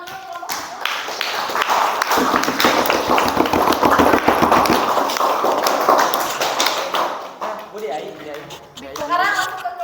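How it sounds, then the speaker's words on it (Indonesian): Classroom of students applauding a presenting group in a history lesson: steady dense clapping with children's voices mixed in, lasting several seconds before fading into an adult voice speaking. "berikan tepuk tangan dulu kelompok"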